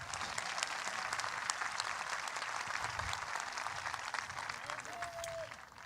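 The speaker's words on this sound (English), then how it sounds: "Give them a round of applause," Steady applause from a graduation ceremony audience honoring the Board of Education, a dense even wash of clapping hands held at moderate level throughout, with a faint brief tone near the end.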